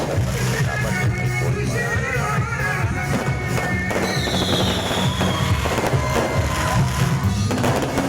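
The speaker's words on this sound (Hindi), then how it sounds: "यहाँ से आतिशबाजी का इफ्तिताह हुआ और आप देख सकते हैं कि फिर यहाँ से सीधा ठपाक ठपाक ठपाक फायर उन्होंने ऊपर आसमान को कैसा कर दिया" Fireworks launched into the sky at a public event, a dense continuous barrage of loud bangs and crackles with a rising whistle partway through, steady and intense throughout.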